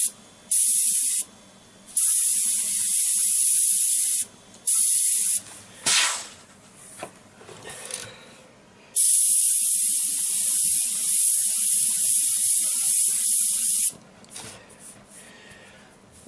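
A VEDA WD 180 dual-action airbrush sprays in loud, close bursts of airy hiss, several short blasts and then a long continuous spray, separated by quiet gaps.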